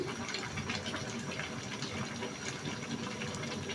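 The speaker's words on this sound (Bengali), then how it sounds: "একদম পানি ঝরায়া" Water trickles and patters steadily at close range as it drains from spooned-up cabbage, a soft continuous draining splash with no voices.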